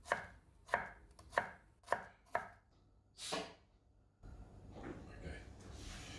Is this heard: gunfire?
no